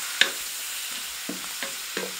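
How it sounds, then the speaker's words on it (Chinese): Pork slices stir-fry in a wok in oil where dried chilies and Sichuan peppercorns were fried first, giving a steady close sizzle broken by four or five scraping stirs of the spatula, with no talk. "先把肉片儿炒干"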